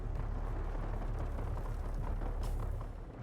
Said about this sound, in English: Well, that's a lot of gunfire.